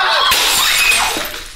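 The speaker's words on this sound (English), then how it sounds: "How does plastic shatter like that?" A plastic object thrown hard onto the ground bursts apart with a loud, sharp shattering crack, followed by a brief scatter of pieces, close and alone without talk.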